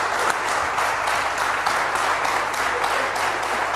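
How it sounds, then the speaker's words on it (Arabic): Steady audience applause and clapping fills the whole stretch, a dense, even wash of many hands at a constant loud level with no voices on top. "صفقوا عليهم تصفيق اخويا برشا"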